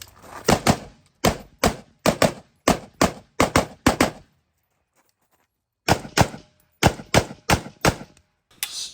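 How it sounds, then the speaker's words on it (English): A BCM 12.5 match-ready carbine rifle fires in quick pairs and short strings of sharp, loud, close shots, with a short silent gap midway before the rapid shooting resumes. "I'll show some clips here of just super fast, consistent shooting, either long range or close range."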